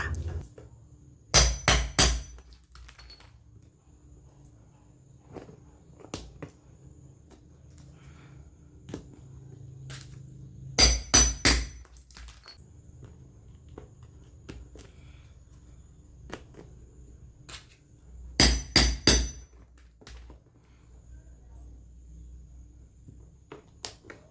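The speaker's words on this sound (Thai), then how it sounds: "แล้วก็ตอกให้แน่นเลยค่ะ" A hammer drives a metal rivet into a woven plastic-strap bag in three separate bursts of sharp, close, ringing taps, three or four quick blows each, with quiet pauses between.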